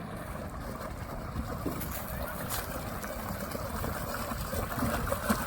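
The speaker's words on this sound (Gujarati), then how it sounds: "પાણી અત્યારે પાણી ચાલુ છે આછું આછું પાણી જાય" A small village stream flows gently with a soft, steady wash and trickle, heard alone without speech and fairly faint throughout.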